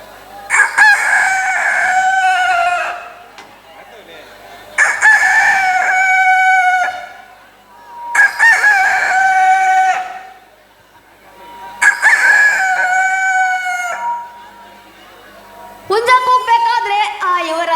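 A voice imitates a rooster crowing, repeating the long cock-a-doodle-doo call four times with pauses between, then breaking into a short burst of clucking.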